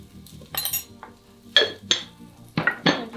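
Spices such as turmeric and kosher salt being stirred in an Instant Pot, giving a run of separate scraping clinks of a utensil against the metal pot, close and fairly loud, with no talking.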